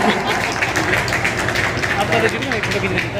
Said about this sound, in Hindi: वो जोरदार तालियां बजाएं